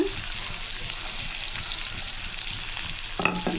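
Onions cut for mutton gravy fry in a pan with a steady, close sizzle and crackle, a brief clatter of stirring near the end.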